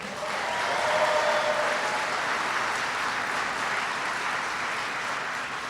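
An audience applauds for Governor Arnold Schwarzenegger at a speech at Solyndra, a steady, dense wash of clapping that holds strong throughout with no talking.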